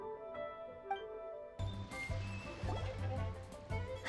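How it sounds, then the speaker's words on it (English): Gentle waves lapping at a harbor in Genshin Impact, a soft watery slosh and gurgle running steadily under a background music score. "The sound of the waves in this familiar port."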